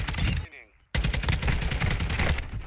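Rapid bursts of video game gunfire from Call of Duty: Modern Warfare 2 fill most of the clip, loud and dense, with a brief quieter gap near the start.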